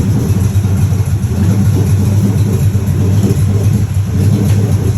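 A 1967 Pontiac Firebird engine idles steadily and close by, with a low, rough, continuous rumble throughout.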